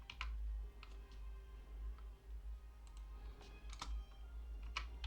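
Keys clack on a computer keyboard while code for a Python shopping cart program is typed, with steady irregular taps and a few louder strikes over a low background hum, close and fairly quiet.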